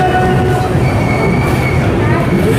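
Onboard rumble of the Brahmapur-Udhna Amrit Bharat Express, an LHB rake hauled push-pull, running steadily with dense low wheel and track noise and faint metallic squeal overtones, continuous and loud throughout.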